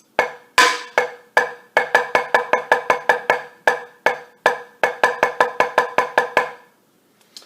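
Single drum strokes on alternating sticks in a percussion warm-up: crisp, close hits, first spaced eighth notes, then quicker bursts of sixteenths, repeating in a steady pattern before stopping.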